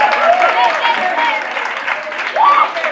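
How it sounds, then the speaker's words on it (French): A festival crowd claps steadily for a slam poet walking on stage, sustained applause throughout, swelling slightly toward the end. "On applaudit très fort l'entrée de Brillant Stéphane"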